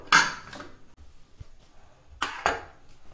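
Metallic clinks and clanks of a pressure cooker lid being opened after cooking biryani, two sharp clatters separated by quiet shuffling, close and moderately loud, no talking.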